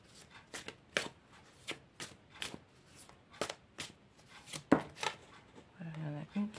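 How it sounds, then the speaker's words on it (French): Deck of cards being shuffled for a card reading, a series of crisp riffling bursts spaced irregularly at close range, fairly quiet, with a brief murmur of voice at the end. "je vais battre les cartes"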